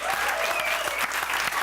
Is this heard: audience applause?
yes